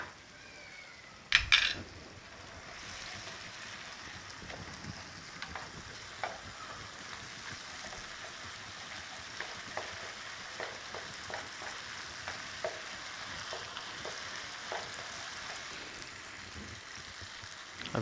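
Ginger garlic paste frying in tempering oil: a steady, fairly quiet sizzle, opening with a brief clatter of utensils and followed by soft scattered crackles.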